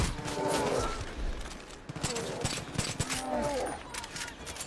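Shotgun blasts in the video game Far Cry 5 as a bear is shot, a few sharp bangs spread over several seconds amid game ambience and faint creature growls.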